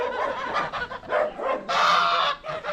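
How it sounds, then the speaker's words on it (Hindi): Ducks in a village house yard give several loud, close honking quacks in uneven bursts, with one longer harsh call in the middle. "ये बत्तख है"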